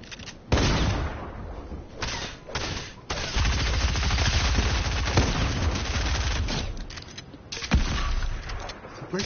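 Gunfire in a French-language multiplayer video game: dense bursts of shots and booms roll almost continuously, loud and close, with short gaps and a few isolated cracks, while players talk over the action.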